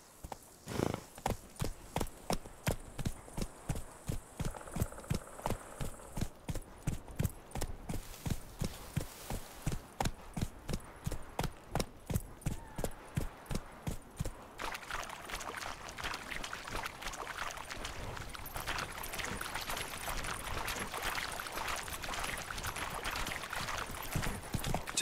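Horse hooves galloping in a steady rapid rhythm in The Witcher 3: Wild Hunt, with a faint whinny, the gait fading into a broader rushing noise of movement and ambience later on.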